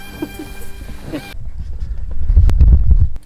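Harsh honking bird calls sound close for about a second in the morning in Sunamganj, Sylhet, then give way to low rumbling handling noise.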